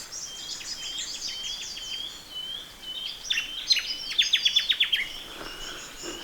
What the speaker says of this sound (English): this place is bird heaven. There are countless species of birds